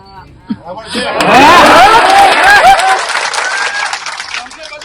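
A dense crowd at an outdoor political rally bursts into loud clapping and cheering that swells quickly, holds for a couple of seconds and then thins out.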